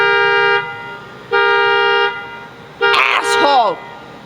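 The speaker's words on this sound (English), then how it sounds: "This piece of shit is on! It's driving me crazy." A car alarm goes off at night, sounding long steady horn-like tones with gaps between them, followed by a shorter warbling, sweeping tone, loud and close.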